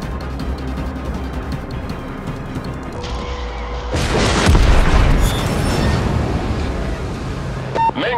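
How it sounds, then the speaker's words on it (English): A warship's main turret blowing up in World of Warships, the battleship Fuso in combat: a loud broadband boom bursts in about halfway through and rumbles on as sustained roaring noise over steady engine and sea ambience. "Main turret blown up."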